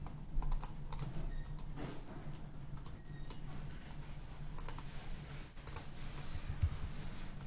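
Rapid keystrokes on a computer keyboard while entering drawing coordinates in AutoCAD, a steady close-up patter of clicks with a few louder taps, heard alone without talk.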